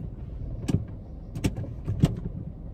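A car engine left idling during a beginner driver's lesson gives a steady low rumble, broken by three sharp clicks or knocks, with no talking.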